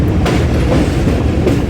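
The Awam Express passenger train rolling in at the Wazirabad outer, heard from on board as a loud, close rumble with rhythmic clickety-clack of wheels over rail joints.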